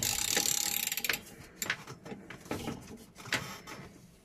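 A hand wrench tightens the rotor hub on a Kenmore Elite washing machine, giving a few close, quick ratcheting clicks and metallic scrapes in short bursts, with no voices.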